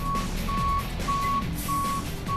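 A tow truck's reversing alarm sounds five times in an even rhythm, each beep a clear, steady tone over low engine rumble at a vehicle dismantling yard.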